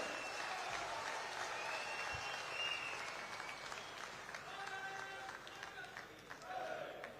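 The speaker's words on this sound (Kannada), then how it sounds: "ಸ್ಟ್ಯಾಂಡಿಂಗ್ ಓವೇಷನ್, ಜೋರಾದ ಚಪ್ಪಾಳೆ." A crowd at a public speech marking the Sigandur Chowdeshwari bridge rises for a standing ovation, with sustained dense applause in a large open setting and voices mixed into the clapping throughout.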